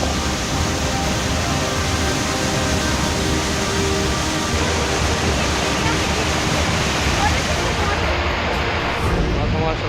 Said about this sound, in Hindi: हमारे शलखर बाढ़ आए हुए हैं, बादल फटे ऊपर से।